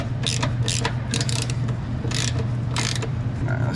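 A wrench works loose a brake line fitting on an old Dodge 12 valve truck, with repeated metallic ratcheting clicks in short bursts over a steady low mechanical hum.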